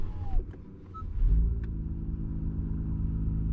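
An Acura NSX in sport plus mode: a deep engine rumble swells after a short pause and holds a steady, loud drone, close by, with no talking.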